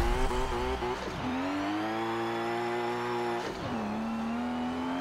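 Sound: race car engine revving in a video game

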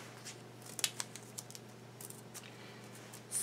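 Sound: scissors cutting paper

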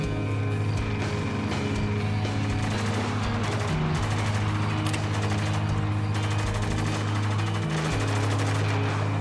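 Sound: gunfire in Spec Ops: The Line video game

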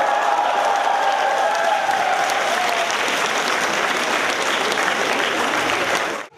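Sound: audience applauding a band at a concert

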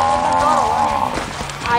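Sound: cow mooing

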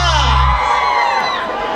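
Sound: women in a concert crowd shouting and whooping

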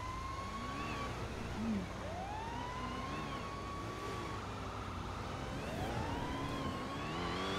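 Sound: fire engine siren

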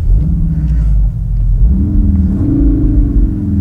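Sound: CUPRA car engine sound on race track

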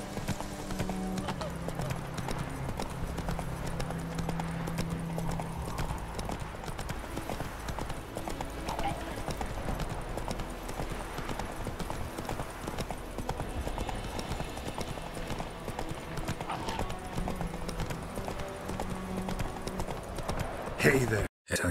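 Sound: horse galloping in The Witcher 3 video game

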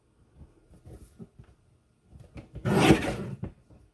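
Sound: paper trimmer blade cutting card artwork

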